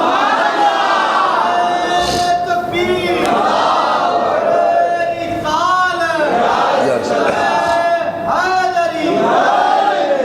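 A large gathering at a Ramadan welcoming sermon chants a religious slogan back in unison, loud and close, in repeated rising and falling waves across the whole stretch.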